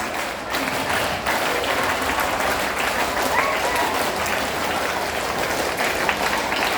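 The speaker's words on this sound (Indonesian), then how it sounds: "3 kali tepuk pramuka." Students at a school Scout Day ceremony clap together in a loud, dense burst of crowd clapping and cheering that holds steady throughout, with voices mixed in.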